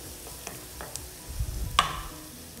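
Stuffed okra fries in a pan, a soft steady sizzle with light spatula taps and a brief louder scrape and clink near the end, heard up close with no speech.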